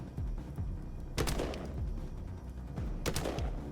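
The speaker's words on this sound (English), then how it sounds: "I can take 2 regular shots at this guy" Gunfire from the video game Colony Ship: A Post-Earth RPG, two loud sharp shots about two seconds apart, each with a short ringing tail, over a steady low game background.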